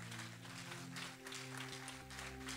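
A church congregation claps during a sermon, a dense, steady wash of applause with no breaks, over a low sustained hum, moderately distant.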